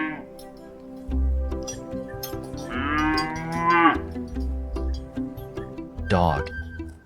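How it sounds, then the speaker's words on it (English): A cow gives two drawn-out moos, the first long and the second shorter, over a steady thumping background beat. "This is a cow."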